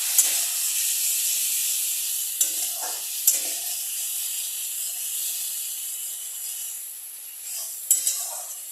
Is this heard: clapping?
no